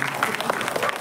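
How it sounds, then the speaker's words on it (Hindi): An audience claps after a stage drama performance at a civic centre in Rourkela, Odisha, a brief burst of mixed handclaps from a crowd, moderately loud and steady. "जोरदार करताली दिंतु"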